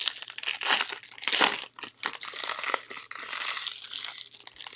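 A 2025 Topps Chrome Baseball jumbo pack being ripped open by hand, with loud, close crinkling and tearing of foil wrapper that runs continuously, swelling and dipping for several seconds.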